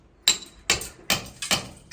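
Five sharp hammer strikes land at a steady, unhurried pace, each a loud metallic crack followed by a brief ringing decay, with no voices.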